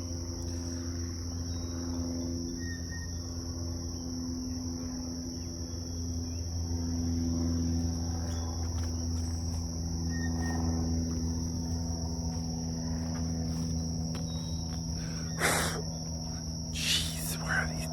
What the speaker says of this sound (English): Jeez, where are these bugs coming from?